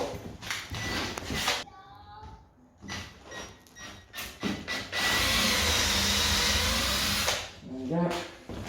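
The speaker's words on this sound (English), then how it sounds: "5mm drill bit. Make sure it's sharp." A 5mm drill bit boring a hole during a loft alcove wardrobe fitting, a steady broadband whir lasting a few seconds, surrounded by bursts of nearby talk and handling noises.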